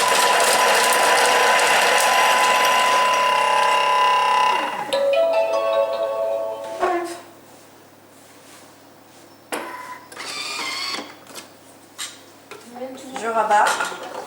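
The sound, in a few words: Thermomix blender mixing risotto ingredients at speed 5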